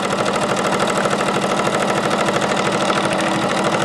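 A free arm sewing machine runs steadily, stitching fabric with a fast, even mechanical chatter that stays loud and continuous throughout, with no talking over it.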